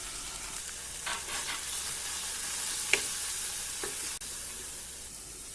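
Dry spices fry in oil in a pan for a chicken drumstick curry, giving a soft, continuous sizzle with a few light scrapes and taps from stirring.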